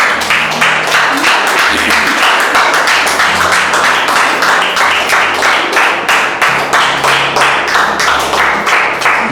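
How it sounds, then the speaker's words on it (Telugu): A church congregation claps hands in a steady, rapid rhythm throughout, loud and close, with a faint voice and low hum beneath the clapping. "చప్పట్లు కొడుతూ దేవుని కనపరచు."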